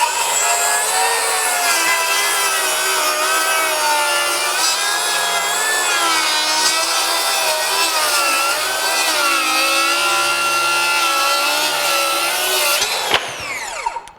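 A Metabo HPT 36-volt cordless 7-1/4-inch circular saw in high speed mode rips straight along a badly twisted hardwood board, its loud high-pitched whine steady and continuous for about thirteen seconds before cutting off abruptly at the end.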